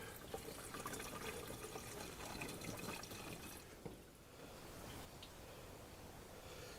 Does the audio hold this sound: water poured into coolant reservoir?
yes